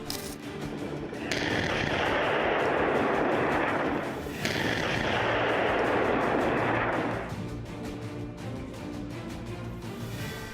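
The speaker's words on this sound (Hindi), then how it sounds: "उसी ड्रोन ने इस मेरकावा टैंक पर रॉकेट गिरा दिए, जिससे टैंक में जोरदार 2 धमाके हुए" Rockets dropped by a drone explode on a Merkava tank, a loud dense burst of blast and crackling noise that swells, briefly dips, then runs on for several seconds before fading into lower rumble.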